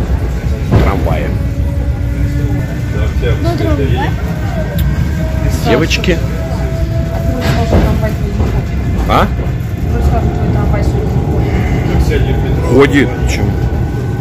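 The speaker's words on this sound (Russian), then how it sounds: "Сейчас мы едем на электричке до самого Казанского вокзала." A steady low rumble and rattle of a moving suburban electric train carriage heading to Moscow's Kazansky station, with people talking intermittently over it.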